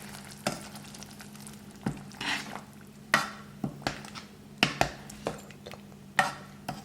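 Food frying in a pan while Mexican sopes are made, a steady soft sizzle with repeated sharp stirring scrapes and clinks of a utensil against the pan, close and fairly quiet.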